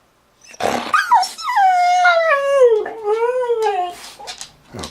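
A dog howls and whimpers in a long, wavering, rising-and-falling vocal close by, with a few short yelps breaking it up and no one talking.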